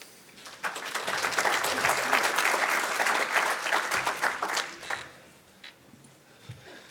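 An audience at a concussion epidemiology summit breaks into applause to welcome a speaker. The steady clapping swells for about four seconds and then tapers off into a few scattered claps.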